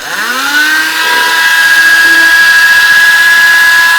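A Hart rotary tool spins up and holds at about 20,000 RPM, a loud, close, steady high-pitched whine that rises quickly at the start and then stays constant.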